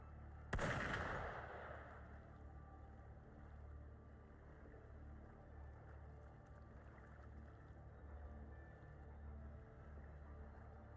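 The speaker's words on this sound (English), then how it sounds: "Gunfire!" A single sharp gunshot blast from the video game Wuthering Waves cracks out near the start, followed by a decaying echo over a steady low ambient rumble that continues for the rest of the clip.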